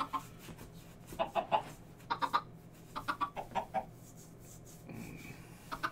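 Chickens in a video game hen house cluck in quick bursts of short, clipped calls, several rounds in a row against quiet ambient hum, with a longer squawk near the end.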